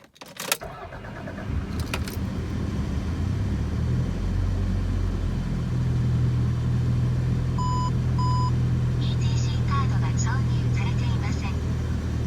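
Over a steady running Toyota MR2 engine, a few clean electronic beeps sound from the car stereo head unit starting up, then a brief melodic chime jingle plays.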